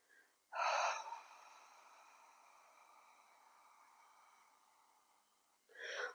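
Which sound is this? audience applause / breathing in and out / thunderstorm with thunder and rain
breathing in and out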